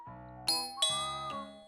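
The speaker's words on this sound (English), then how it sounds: "As the doorbell rang, Moe rushed towards the entrance." A doorbell chimes indoors in a home, giving three clear ding tones in quick succession at moderate volume, each ringing out over a soft sustained background tone.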